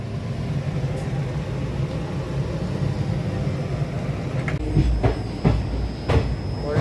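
A train in Kerala, running toward Angamaly at night, rumbles along the tracks with a steady low roar, then a few sharp clacks and rattles of the wheels near the end.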